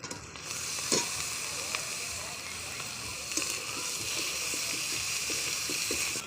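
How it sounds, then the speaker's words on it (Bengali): Chicken pieces fry in a pan of spiced garlic paste, making a loud, even hiss that sits close to the listener, with faint ladle taps and stirring scrapes under it. "আমি এবার মুরগির মাংসটা দিয়ে দেবো।"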